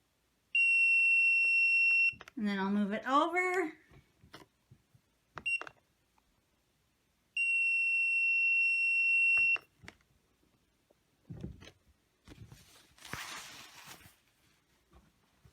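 Electronic timer on a heat power press used for fusing fabric while sewing a bag beeps in two long steady tones, each about two seconds, with a short burst of talk between them and a brief speaking voice afterward, indoors and close.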